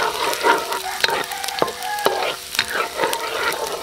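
Garlic and ginger frying in a pan for escabeche, a steady close sizzle broken by sharp clinks and scrapes of a utensil stirring against the metal.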